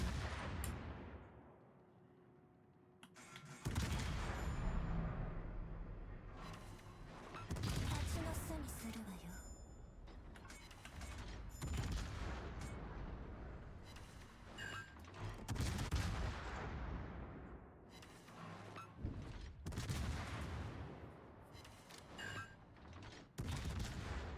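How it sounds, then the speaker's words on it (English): Warship guns fire in World of Warships, sounding as repeated heavy booming salvos with rolling echoes spread through the stretch while someone talks over them. "turn our guns, and we'll be able to get all our guns off on this Alaska here"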